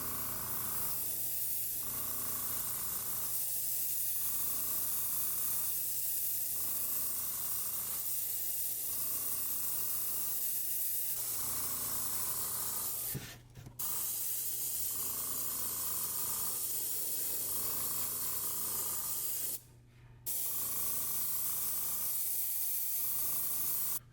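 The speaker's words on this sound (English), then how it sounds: "We're just going to go over the whole thing lightly with white just to get a nice base down" A paint gun lays a light white base coat over a fishing lure, a steady close hiss running almost the whole time and pulsing in short even bursts, with two brief breaks and no talking.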